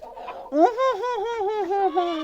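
Backyard hens, bought laying chickens on a small farm with geese and goats, give a loud, close string of drawn-out wavering calls and clucks, one bird sounding over a quieter mix of murmurs.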